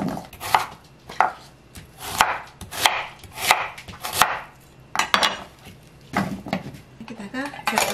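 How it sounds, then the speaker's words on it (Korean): A knife chops thick slices of small white radish on a cutting board, with a dozen or so sharp, close, irregular knocks and some clatter of utensils. "무를 조금 이렇게 도톰하게 썰었습니다"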